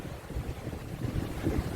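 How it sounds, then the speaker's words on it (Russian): Strong gusty wind on the Gulf of Finland shore buffeting the microphone in low rumbling bursts, with a faint wash of water in the background. "Но ветер поднялся еще сильнее."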